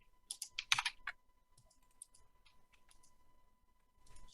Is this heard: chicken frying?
no